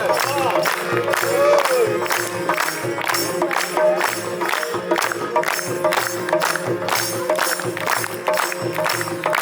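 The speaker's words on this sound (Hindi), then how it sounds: "तालियां जोरदार" An audience at a street play about unemployment claps and cheers loudly, with steady rhythmic clapping and voices shouting over it.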